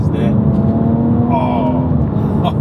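A stock BMW 340i with the B58 engine revs hard under acceleration, a loud steady engine drone with rising harmonics, close by, with a voice talking over it.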